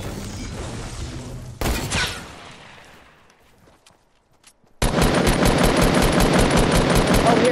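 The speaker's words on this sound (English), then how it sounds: "We're getting shot from behind." Loud automatic gunfire in the multiplayer shooter Squad, with a sharp burst early on, a decaying lull, then sustained rapid firing that fills the last few seconds close and harsh.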